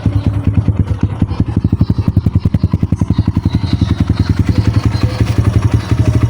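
A freshly overhauled Kawasaki KLX 150 with a new connecting rod and a weak battery runs at a steady, close thumping idle, its single-cylinder pulses evenly spaced and loud throughout, with no speech over it.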